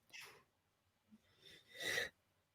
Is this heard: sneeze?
yes